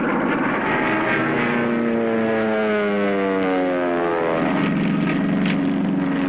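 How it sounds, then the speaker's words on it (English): A propeller airplane in flight drones loudly and steadily, its pitch slowly sliding and wavering, with no voices over it. "Look, Susanacek, handle this plane. Don't manhandle it"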